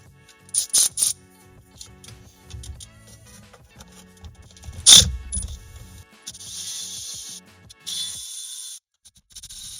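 A socket ratchet backs out Torx T30 bolts from the shift tower of a Jeep JKU manual transmission, giving bursts of sharp rapid clicking with pauses between turns and a louder metallic clatter midway, close and alone.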